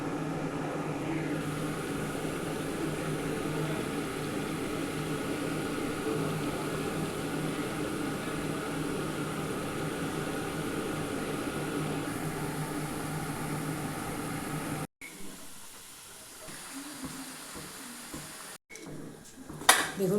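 Gaja dough pieces fry in hot white oil in a wok, making a steady, dense sizzle and crackle that runs on unbroken before cutting out into quieter clatter at the end.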